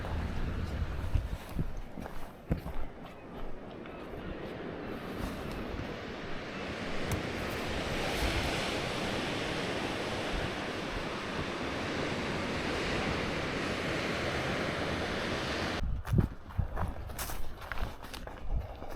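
Ocean waves surging at the Spout on the East Coast Trail, a loud continuous roar of surf under wind, with footsteps and gear rustling at the start and end.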